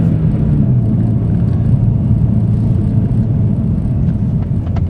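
A turbocharged or supercharged car with a stock exhaust idles steadily, a smooth even low rumble holding constant throughout at close range with no voices.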